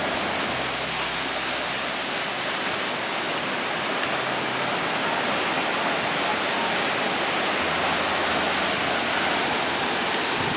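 Waterfall at a Kauai film location roars as a dense, steady broadband rush at close range, continuous and unbroken with no voices.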